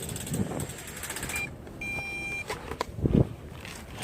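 An MJX Bugs 3 brushless quadcopter, running on 3S after crashing into trees, keeps going with a thin electric motor whine and mechanical whirring, broken by a few clattering knocks, close and moderately loud with no talking.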